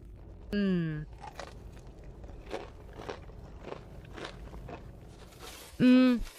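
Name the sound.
biting crispy fried chicken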